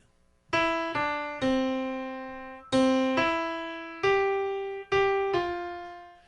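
A short piano phrase of single notes, seven or so struck one after another at a moderate pace, each ringing and fading, close and clear.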